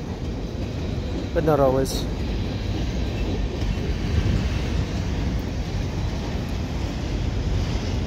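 A CN freight train rumbles past the Dorval West signals in a continuous low, steady roar, with a brief horn-like tone early on and someone talking over it at times.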